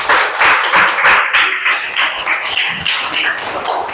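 Classroom clapping as students applaud an answer, a loud, close burst of hand claps in a ragged rhythm lasting a few seconds with some voices mixed in.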